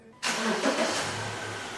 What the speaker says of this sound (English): let's first start our engine